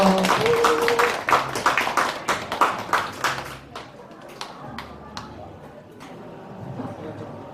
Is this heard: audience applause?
yes